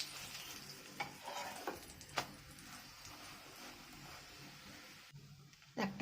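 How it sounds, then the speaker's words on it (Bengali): Pumpkin paratha fries in a pan, giving a soft, steady sizzle with faint scraping and a few sharp ticks and clinks from the utensil, quiet and close. "এইভাবে সবগুলো ভেজে নেব।"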